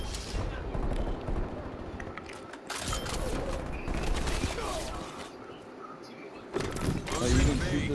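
Rapid automatic gunfire strikes walls during a Call of Duty Cold War multiplayer match, bursts of rattling shots and heavy booms in loud clusters, with players talking over the action.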